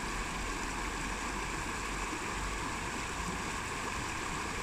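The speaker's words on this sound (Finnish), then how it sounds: "Puro solisee." Water babbling in a brook makes a steady, even broadband rush with no breaks or changes, close and constant throughout with no voices.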